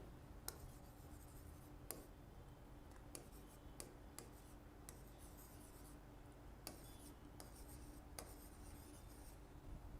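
Pen writing by hand during a math lesson, faint scratchy strokes with occasional sharp ticks over a steady background hiss, no talk.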